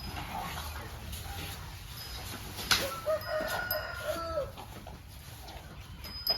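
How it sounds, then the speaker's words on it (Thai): Village chickens clucking, joined by a rooster crowing loudly partway through, amid the scattered sounds of a rural farmyard. "ไปไล่ไก่เร็ว ไก่มาแล้วนะ"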